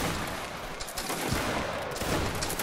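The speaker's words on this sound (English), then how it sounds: "Aim bottom line at their necks and fire" A musket volley during a Waterloo-era line battle between Sweden and Russia, a dense crackling roar of many shots overlapping in a continuous noisy wash, with no voices.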